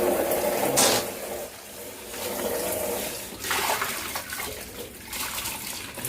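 Water splashes and runs while a plastic jar for a betta fish is rinsed clean, a steady close wash that swells and eases in uneven bursts, with no voices.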